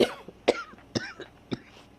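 A short run of four or five dry coughs, spaced about half a second apart, close to the listener.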